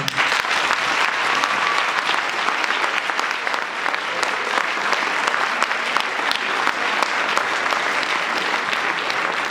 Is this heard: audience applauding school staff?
yes